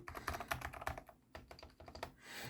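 Quick, steady typing on a Hator Rockfall 2 Mecha TKL Authentic Edition keyboard with silent switches produces a close, dense run of soft muted keystrokes, briefly pausing before resuming.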